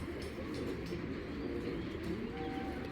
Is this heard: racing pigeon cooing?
yes